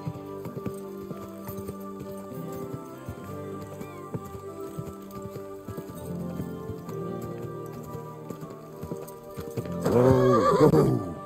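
Horse in Kingdom Come: Deliverance II whinnies loudly near the end, after a stretch of clip-clopping hooves over a layered game soundscape with soft music-like tones.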